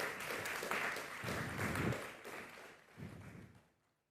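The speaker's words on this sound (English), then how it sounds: "A round of applause for him." An audience applauds a guest being welcomed on stage, a dense wash of clapping that swells, holds for a few seconds, then fades away.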